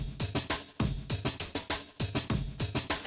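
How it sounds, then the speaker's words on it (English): Funbot's funky beat from the Sprunki video game, a punchy rhythmic loop of repeated bass-heavy hits with bright upper layers, pulsing about every half second, loud and alone with no voices. "he makes a funky beat that sounds like this."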